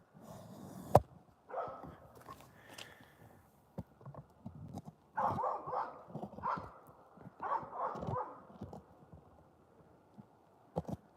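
A dog barks outdoors at night in Alaska with short, intermittent barks and a few whimpers, faint and somewhat distant, among light rustling and thumps.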